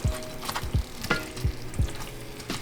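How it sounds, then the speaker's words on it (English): Meatless meatballs being stirred into spaghetti sauce, with soft repeated spoon taps and wet scraping against the pot at an irregular pace, quiet and close. "I'm just going to place the meatballs and mix it, or meatless meatballs, into the sauce"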